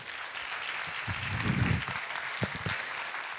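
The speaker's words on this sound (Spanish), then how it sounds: "Gracias, un aplauso." A short burst of audience applause at a conference talk, a fairly quiet, steady patter of many hands with a few low thumps mixed in, lasting about three seconds.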